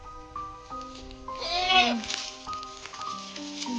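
A goat bleats loudly and close by in a wavering cry, with softer calls from other goats before and after, amid background music and a faint voice.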